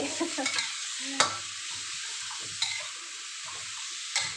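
Minced pork with glass noodles and seasoning stir-fried in a pan for a holy basil dish: a soft, steady sizzle broken by three sharp spatula clanks against the pan at intervals.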